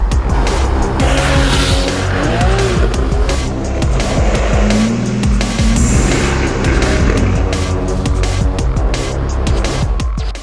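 A 991-series Porsche 911 is driven hard, its engine roaring loudly and continuously with tyres squealing and skidding over the top.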